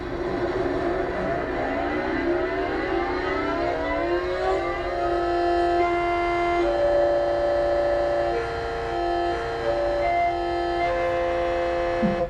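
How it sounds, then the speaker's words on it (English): Yamaha musical siren sounding up close, a loud chord of rising pitches that climbs over several seconds and then holds steady sustained tones, with mechanical rumble from the machinery running beneath throughout. "They made musical sirens, and they sound like up close."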